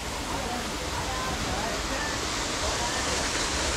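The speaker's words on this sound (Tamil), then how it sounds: "அதே தண்ணி அங்கே ஓடுது" Spring water flowing at PADI Springs in Goa during the monsoon, a loud, steady broadband rush of running water close by with no pauses.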